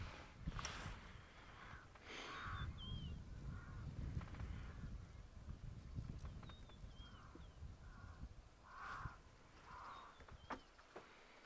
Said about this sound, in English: It sounds like it's a Cape crow.